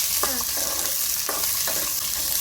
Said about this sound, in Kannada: ಒಂದು ಚಮಚದಷ್ಟು ಎಣ್ಣೆ ಹಾಕೋಬೇಕು ಚಂದಾಗ ಹುರ್ಕೋಬೇಕು